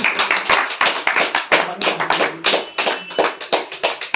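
Rhythmic hand clapping from an audience at a health-product meeting, steady beats in a moderately loud, somewhat uneven pattern that keeps going throughout without talk.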